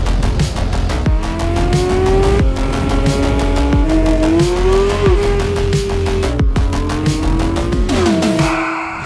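A 2023 Porsche 911 GT3 RS drives hard and loud, engine revving up and down through gear changes with tires squealing, steady and close with no talking.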